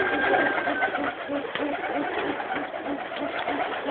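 A green pigeon in Tripoli, Libya coos in soft repeated low notes, steady and fairly close, over a constant bed of background noise.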